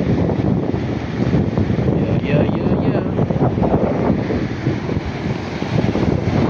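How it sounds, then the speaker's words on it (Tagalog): Strong waves surge and crash on a clear-watered shore, a loud continuous roar of surf mixed with heavy wind buffeting the microphone throughout, with a voice briefly heard over the noise. "Tingnan nyo yung alon dito. Malakas."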